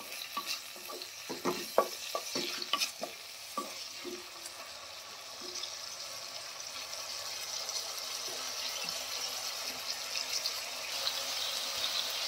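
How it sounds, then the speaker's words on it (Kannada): Onions fry in a pan until brown for restaurant-style paneer burji, with a steady sizzle beneath clattering stirs and scrapes of a spatula early on, then a continuous hiss settles in. "ಇದು ಬ್ರೌನ್ ಕಲರ್ ಬರೋವರೆಗೂ ಫ್ರೈ ಮಾಡ್ಕೊಬೇಕು."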